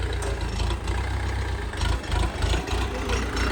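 A tractor engine idles steadily at close range, a low, even rumble with slight pulsing and no voices over it.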